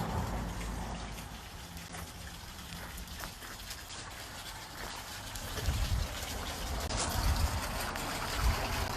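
A seasonal creek runs behind a house on Aguajito Road on a sunny day, a faint, continuous trickle and patter of water with a slight swell toward the end, no talking.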